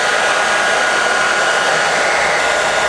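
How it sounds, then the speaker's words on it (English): A hair dryer blows steadily and loudly throughout, a constant airy roar with no breaks or talking. "Everybody's hair dryer is going to be a little bit different"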